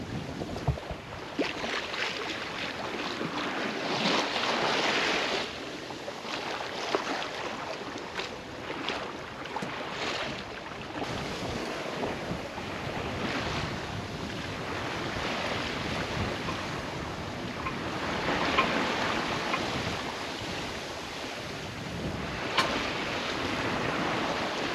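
A sailing boat moves across the open sea in Indonesia, with continuous wash of waves against the hull and steady wind rushing over the microphone, no voices.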